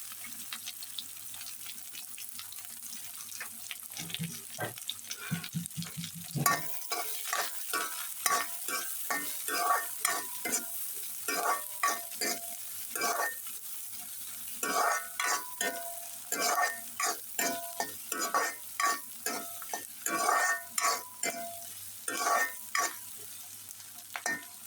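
Spice paste for egg curry fries in hot oil with a constant sizzle, while a spoon stirs it in quick, irregular scraping strokes that keep going. No voice is heard.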